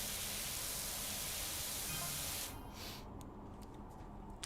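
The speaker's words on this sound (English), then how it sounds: "I'm just washing this van. I'm spraying it all away." A pressure washer in a video game sprays a van, making a loud, steady hissing rush that drops suddenly to a quieter hiss partway through, with faint clicks after.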